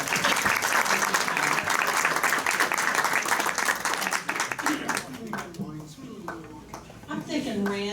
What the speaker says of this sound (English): So I think we need to give her a round of applause right now.